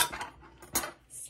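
Metal teaspoons clink against a dish while cucumber water is measured out for a skincare mix: a few quick, bright, close taps over about a second.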